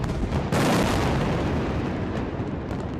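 A heavy, sudden blast roars up from airstrikes and rocket fire over Gaza City at night, followed by a long rumbling, crackling decay that fills the space for several seconds.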